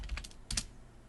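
Keys clatter on a computer keyboard while a command is typed into a terminal, two short quick bursts of close, light clicks.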